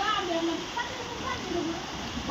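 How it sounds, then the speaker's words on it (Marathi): Sudden rain beginning during a village bullock festival (Bail Pola), a steady broadband patter and wash of falling water holding evenly throughout, with faint voices talking underneath. "पाऊस सुरू झालाय"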